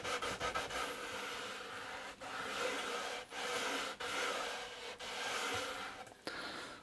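A glued wood edge strip on a woodworking cabinet build is rubbed down by hand, a close, continuous scraping friction in repeated strokes with brief pauses between passes.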